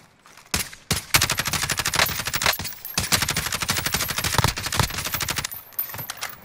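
Automatic weapons fire in the battle royale game Warzone, with loud rapid bursts and sustained volleys that pause briefly, then resume, close and dense throughout.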